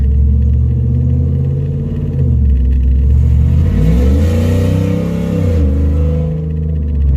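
A loud, deep cammed 5.7 Hemi V8 with exhaust cutout open rumbles steadily and revs up twice, its pitch climbing and falling back to idle each time.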